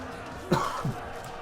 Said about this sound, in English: Pardon me again for coughing